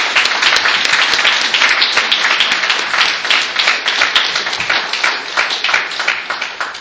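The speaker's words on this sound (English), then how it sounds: "So an applause for David." Sustained audience applause for David at a 2013 presidential address of a scientific society's annual meeting, a dense steady roar of many hands clapping that holds strong throughout and slowly thins toward the end.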